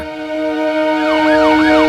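An ambulance siren wails loud and close, a steady tone giving way to a rising and falling sweep, with no voices over it.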